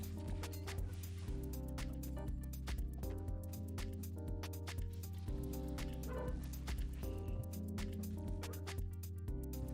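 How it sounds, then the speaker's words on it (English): A dog barks repeatedly at a squirrel outside, sharp yips and short barks spread across the stretch, heard faintly under steady background music. "I don't know if you can hear her barking. She's barking at a squirrel outside."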